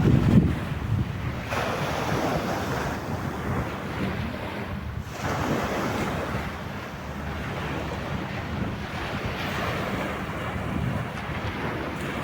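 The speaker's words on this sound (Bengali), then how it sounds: "নদীতে প্রচুর তুফান উঠতেছে আর কি।" Rough sea waves surge and wash along a sandy shore at West Coast Park, Singapore, with strong wind buffeting the microphone in a continuous, loud roar that swells and eases.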